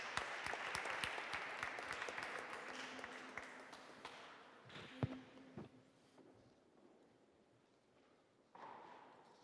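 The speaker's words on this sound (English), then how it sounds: "Give an applause when they come on stage." Audience applause at a pain-policy symposium as speakers walk on stage, a steady clatter of clapping that thins out over several seconds, with a few sharp knocks and a brief rise near the end.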